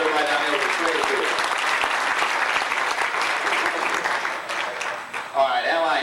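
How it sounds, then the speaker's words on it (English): A crowd at a 1991 auto racing fan club banquet gives the Schrader family a round of applause, with dense continuous clapping and a voice heard near the end. "Give them a nice round of applause, everybody down there with the Schrader group."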